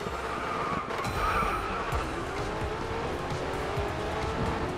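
A maxed-out 4GT race car in the mobile racing game Racing Master roars at high revs, with a continuous engine drone, tire squeal and skidding under it, steady and close for the whole stretch.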